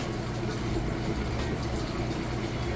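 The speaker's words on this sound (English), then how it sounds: "You can hear it draining the water out nice and fast" A Whirlpool Gold Series washing machine draining water, a continuous rushing, steady and fairly loud, with a low mechanical hum underneath and no talking.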